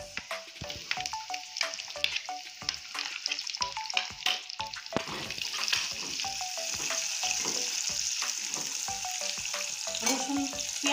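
Chopped large onion frying in hot oil with garlic already browned, a steady close sizzle that thickens partway through, broken by frequent sharp scrapes and clinks of stirring against the pan, with no voices.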